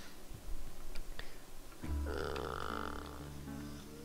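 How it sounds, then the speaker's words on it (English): A single drawn-out human burp rumbles up midway and holds low and loud for a couple of seconds, following a stretch of faint clicks and quiet background noise with no talking. "I burped at the same time I said that."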